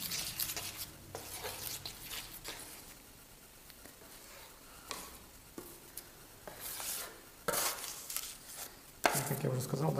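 Metallic Venetian plaster is worked and mixed with a trowel, giving faint, irregular scraping and slapping strokes with occasional sharper clicks of metal on the board and a quiet background.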